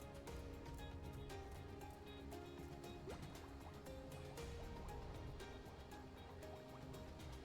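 Water sounds in a fantasy video game, a steady liquid trickle and drip layered under game music and ambience, fairly faint and continuous throughout.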